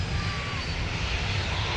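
An airliner lands at Minneapolis–Saint Paul airport, a steady broadband engine roar heard from nearby, with a faint rising whine and radio talk mixed in.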